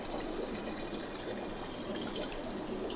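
A Reef Breeder RPM powerhead pushes water around a reef aquarium, producing a steady, soft rushing and gurgling wash that continues evenly throughout.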